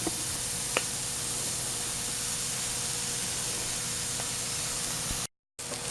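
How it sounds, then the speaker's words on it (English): Pork roast browning in a hot skillet, a steady broadband sizzle and hiss that holds evenly throughout, with one brief tick near the start and a short silent break near the end. "we're gonna take and brown our pork roast in a hot skillet"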